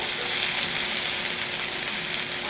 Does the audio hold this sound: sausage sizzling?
yes